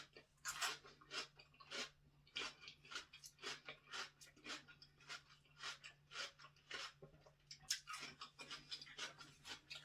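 Cucumber bitten and chewed close to the microphone, a steady series of wet, crisp crunches at a regular chewing rhythm, loud and alone with no talk.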